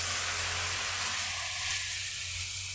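Spice paste mixed with water hisses loudly over fried potatoes in a pan for a Bengali banana flower curry, a dense, continuous close sizzle that eases slightly toward the end.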